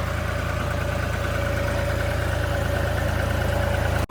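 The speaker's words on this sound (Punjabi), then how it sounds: "ਹੁਣ ਚੱਲੀ ਜਾਂਦਾ ਵਧੀਆ ਟਰੈਕਟਰ" A farm tractor with its levers tied together, running during potato planting: a steady low diesel drone with a constant hum, close and loud, ending in a sudden cut.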